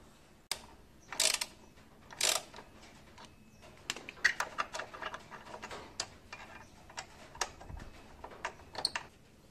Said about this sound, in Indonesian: Kita cukup copot dua baut ini dulu untuk melepas kalipernya dari dudukannya.